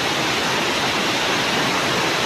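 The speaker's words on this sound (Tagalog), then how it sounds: "Sa sobrang lakas ng ulan dito sa Marabeles," Dense, steady roar of heavy typhoon rain pouring down in Mariveles, Bataan, a continuous broadband wash with no pauses or voices, loud and close.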